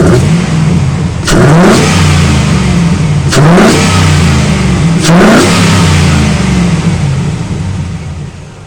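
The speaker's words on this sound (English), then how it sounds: "so I could rev it up" A 2003 Chevy Avalanche truck engine with a K&N cold air intake and 50 series Flowmaster dual exhaust, loud and close, idling between three sharp revs that rise and fall before settling back to a rumbling idle.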